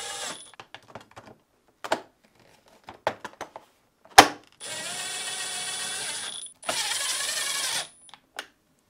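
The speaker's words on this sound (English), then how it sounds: "Then, reinstall the screws." Screws being driven back into the middle cover assembly of a GE refrigerator fresh food door, with a couple of sustained whirring bursts from a power screwdriver between scattered clicks and taps, close and fairly quiet.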